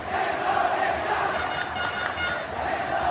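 Football ultras in a stadium crowd chant and clap together in unison, a steady, dense roar of many voices heard from a distance.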